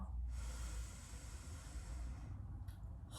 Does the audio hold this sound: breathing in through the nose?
yes